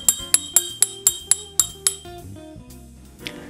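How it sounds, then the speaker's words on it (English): A teaspoon clinks against a fine china teacup in a steady series of about eight bright, ringing taps, close and clear, then tapers into softer sounds. "the sound of a teaspoon clinking against fine china is disturbing and"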